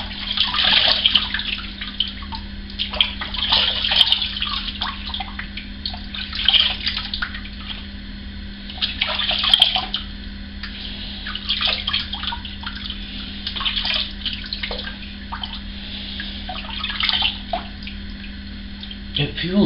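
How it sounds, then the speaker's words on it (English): Water splashes close by in repeated bursts as a face is rinsed under running water at a sink after a shave, over a steady low hum. "I'm going to rinse this off my face quick"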